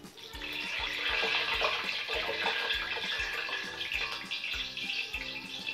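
Loud continuous sizzling and crackling hiss as water hits hot oil, bubbling steadily throughout, close up with no talking.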